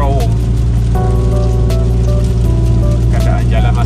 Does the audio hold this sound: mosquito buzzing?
no